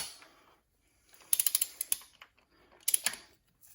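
A torque wrench tightens spark plugs into the aluminium head of a Mercedes-Benz 230E W123, set to 20 newton metres. It gives a cluster of sharp, close ratcheting clicks followed by a second short burst, with quiet pauses between.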